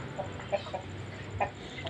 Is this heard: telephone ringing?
no